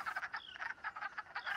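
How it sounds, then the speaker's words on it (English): A chorus of male wood frogs quacks from a pool, with clipped, duck-like croaks repeating in quick overlapping bursts at steady loudness and no talking. "Most of the males just wait in the pool, quacking"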